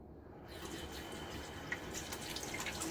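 Tap water runs steadily into a sink while hands and the handle of a shaving brush are rinsed, a continuous close splashing stream with small clicks and drips, and no talking.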